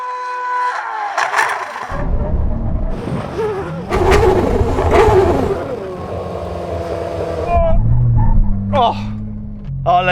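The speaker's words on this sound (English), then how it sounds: "brake test from 100 miles an hour. When we reach the line, full emergency stop" F1 car, MotoGP bike and Porsche braking hard from 100 mph on a drag strip: a loud engine roar that drops away into lower rumbling and deceleration, with people talking over it.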